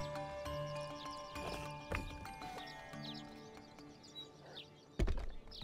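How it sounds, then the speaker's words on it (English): A horse whinnies and snorts amid clip-clopping hooves and thuds in the Rust survival game, with bursts of animal sound over a steady outdoor game ambience; a faint voice briefly underneath. "Wolf's getting into a fight with a horse over there"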